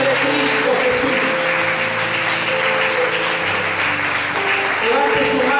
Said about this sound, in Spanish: Alguien dé un aplauso grande al Señor